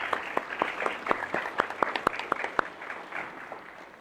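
Sparse applause from an audience at a Christian apologetics conference in Lima, a dozen or so distinct claps rising briefly then thinning out, moderately quiet with no talking.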